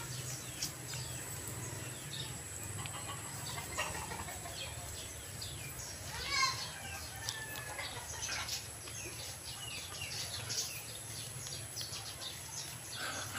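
Soft clucking and scattered chirps from fowl over steady outdoor background noise, fairly faint and continuous, with a brief louder call midway.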